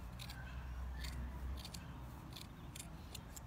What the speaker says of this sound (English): Get a wool fabric, a wool woven blanket, works well, and cut out a leaf shape